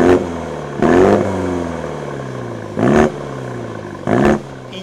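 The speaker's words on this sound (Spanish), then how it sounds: "hay que detenerse en el escape. Es nuevo, es más grande y genera un sonido que define perfectamente lo que es este GP" A 2020 Mini GP with a new, larger sports exhaust, 306 hp: three short loud revving bursts with harmonic sweeps, separated by a steady idling drone, close to the microphone with no talk.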